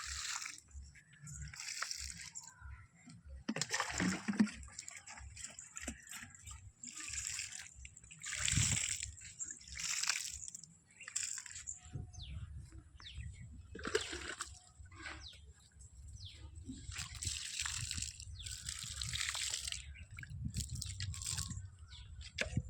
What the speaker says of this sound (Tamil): கீழே ஈரமாக இருக்கிறதுனால கொஞ்சம் கொஞ்சம் தண்ணி விட்டுக்கிறோம்